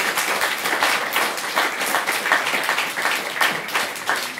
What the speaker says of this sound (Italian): le facciamo ancora un applauso